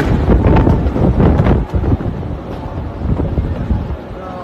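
Strong wind buffeting the microphone in loud, uneven gusts during a rain and hailstorm in Jazan, Saudi Arabia, with a low roar throughout and faint voices underneath.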